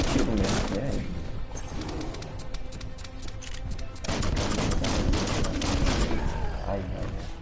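Sustained weapon fire in the Biomutant video game on PS4, continuous rattling volleys that ease slightly midway and then surge again, loud and close throughout.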